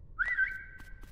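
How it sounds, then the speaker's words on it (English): A character in the Dinkum video game whistles one clear, sustained note. It rises briefly and then holds steady for about a second over faint background noise. "How did I just whistle?"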